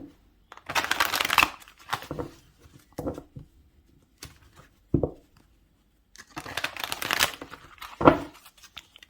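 A tarot card deck shuffled in several bursts of riffling and flapping, close and crisp, separated by short pauses, with no talking.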